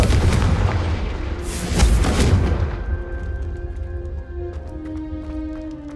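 A Confringo fire-blast spell in the Hogwarts Legacy video game lands as a loud booming explosion with a crackling burst, then fades into a lingering rumble under quieter game ambience.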